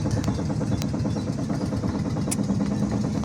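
A flatboat's mid-pitched engine chugs steadily at a constant idle, close by, with a few faint clanks over the drone.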